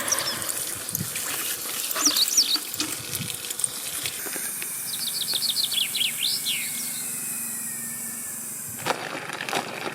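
A strong jet of running water hisses steadily, like a tap or hose spraying while washing laundry at a campsite in the Apuseni Mountains, with birds chirping briefly in the background.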